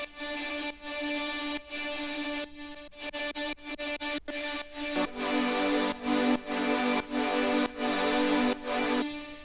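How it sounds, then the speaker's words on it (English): A thick, sustained synth drone hums along as chords pulse in rhythmic bursts, swelling louder and brighter halfway through. No voices. "add some character with interesting dronal sounds like this sound here."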